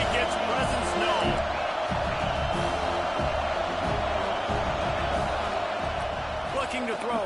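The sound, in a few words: stadium crowd noise in College Football 26 video game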